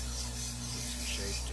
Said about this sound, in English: We've got some 50 grit sandpaper. And I'll start sanding her out a little bit thinner.